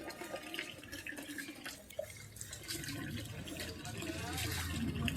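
Water runs and splashes softly as a child washes his feet at a tap at home. It is faint, with dripping and trickling, and voices talk over it.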